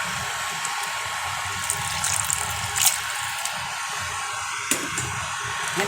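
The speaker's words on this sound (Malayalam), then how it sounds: "നമുക്ക് പുളിവെള്ളം ഒഴിക്കാവേ." Tamarind water poured into a boiling fish curry makes a steady, rushing liquid sound with faint bubbling and a few small clinks.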